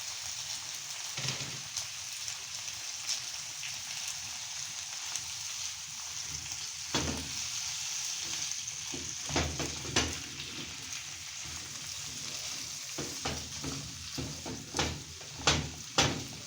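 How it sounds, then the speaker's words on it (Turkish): Continuous crackling sizzle of pickled beans frying in a pan, with occasional louder pops and clinks of a utensil stirring, close and steady. "Şimdi şöyle turşularımı burada kavuracağım."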